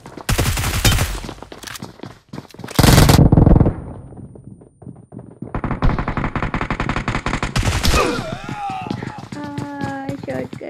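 Shotgun blasts and other gunfire erupt in sharp bursts during a BGMI match, loud and close with gaps between volleys, followed by game sound effects and chirping tones near the end.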